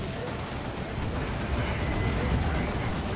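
A heavy orbital bombardment strikes during a Space Marines versus Imperial Guard match in the strategy game Dawn of War 2, a dense, sustained roar of rumbling explosions that swells and stays loud throughout.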